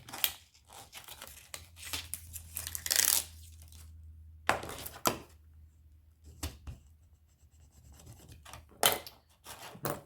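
Paper is trimmed with scissors for a travel-themed suitcase scrapbook album, producing close, quiet snips and scraping cuts in short separated bursts with pauses between.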